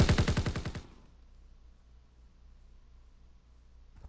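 Rapid automatic gunfire in the World War II shooter Call of Duty WW2 opens with a loud, quick burst that cuts off after under a second, leaving a low, quiet background hum.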